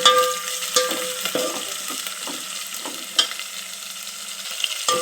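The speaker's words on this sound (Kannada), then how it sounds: "ನೆಕ್ಸ್ಟು ಹಸಿಮೆಣ್ಸಿನ್ಕಾಯಿ ಎಲ್ಲ ಒಟ್ಟಿಗೆ ಹಾಕ್ಕೊತಾ ಇದ್ದೀನಿ. ಇದೆಲ್ಲ ಚೆನ್ನಾಗಿ ಫ್ರೈ ಆಗಬೇಕು." Garlic, onion and green chillies fry in hot oil with a steady close sizzle, broken by repeated scraping clinks of a spoon stirring the pan, all without talk.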